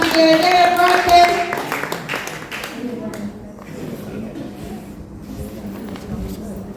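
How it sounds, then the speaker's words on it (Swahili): Clapping and high trilling ululation rise for a participant at a youth gift-exchange evening gathering, loudest at the start and then fading into a murmur of voices and scattered claps, with people talking throughout. "Makofi na vigelegele kwake."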